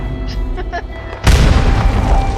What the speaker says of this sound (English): throwing grenade, sorry